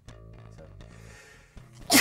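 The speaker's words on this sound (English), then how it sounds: "I sneezed." A single sharp sneeze bursts out loudly at the very end, after a stretch of soft background music and faint murmur, near and abrupt.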